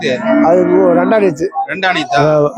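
Cow mooing at the Karungalpalayam cattle market, where pregnant cows are sold: one long, loud, close moo, then shorter, broken calls with a rising cry at the end.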